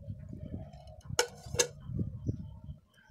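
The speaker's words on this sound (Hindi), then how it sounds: "और अब हम इसे ढक देंगे" A lid set down over a pan of batter for an eggplant dish, giving two sharp metallic clacks close by, a moment apart, over a low kitchen hum.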